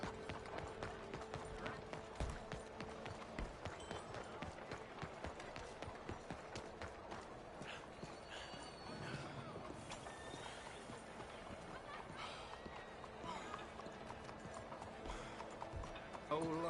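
A horse gallops in the Western game Red Dead Redemption, its hooves clip-clopping in a fast, steady rhythm throughout, with in-game voices talking over the hoofbeats.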